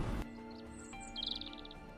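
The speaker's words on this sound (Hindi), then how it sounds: "एक पिंजरा और उसमें एक मैना पक्षी।" A myna bird calls from inside a small cage. It gives a few faint high chirps and a short warbling trill over a steady low hum, after a brief loud burst at the start.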